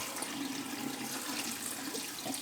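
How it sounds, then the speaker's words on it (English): Tap water runs in a steady, close, continuous stream as a beard is wetted before a razor lineup, with no talking over it. "I'm just going to put some water on."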